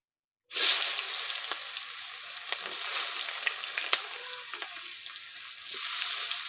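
Chopped onions hit hot mustard oil in a pan with a sudden loud burst of sizzling that settles into a steady, crackling fry, with occasional stirring scrapes and no voices.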